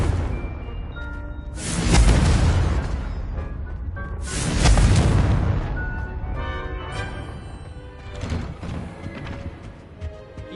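Two big blasts from the Confringo fire spell in the game Hogwarts Legacy, each a loud, roaring burst that fades into a rumbling tail, with a softer crackle afterward.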